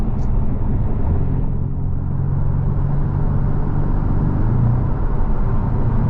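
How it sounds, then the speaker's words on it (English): Porsche 718 Boxster base model with its turbocharged engine and intake just behind the door, a steady close engine rumble and whir while driving, constant and unbroken with no talk. "you do get to hear the turbo noise a little bit"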